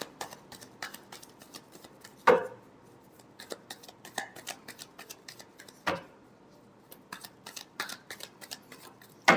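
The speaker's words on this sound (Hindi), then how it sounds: "Last shuffle." Tarot cards are shuffled in a quiet room, giving a run of soft, quick riffling clicks and flaps with a few sharper snaps, close and fairly faint.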